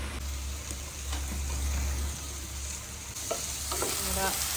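Oil heating in a pan for chicken sizzles and crackles steadily at close range, with a low hum beneath and a few sharper pops and spatters near the end; no one speaks.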